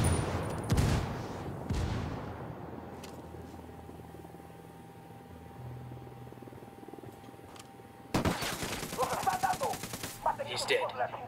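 Gunfire from the tactical shooter Ghost Recon Wildlands, including a gun turret: a few loud shots near the start, then dense rapid automatic fire later over a steady background hum.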